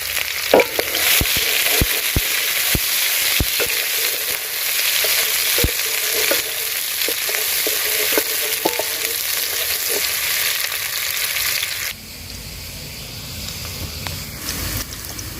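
One large chopped onion fries in hot cooking oil in a village kitchen, giving a loud, sustained sizzle with sharp crackles and spoon clatters. Near the end the sizzle drops to a softer, quieter hiss.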